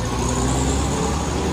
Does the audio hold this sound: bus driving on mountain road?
yes